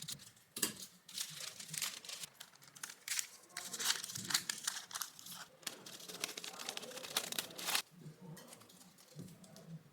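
Paper being cut with scissors to make a template for a woodworking piece, with soft crinkling and snipping sounds in irregular bursts, quiet and close with no speech.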